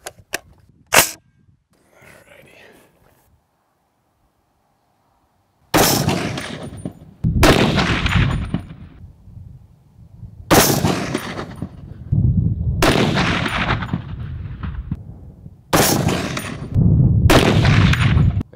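Five loud rifle shots from a NEMO Arms OMEN rifle in .300 Win Mag, fired with a recoil-reducing setup, ring out at irregular intervals of a few seconds, each a sharp blast trailing a long echoing decay, after two brief quieter clicks.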